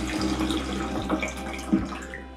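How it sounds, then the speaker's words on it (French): Water pouring steadily through a filter cap on an upturned bottle during hiking water treatment, a continuous close trickling flow with a few soft knocks. "Le filtre est dans le capuchon, donc il y a juste besoin de la retourner et vous allez au final filtrer votre eau."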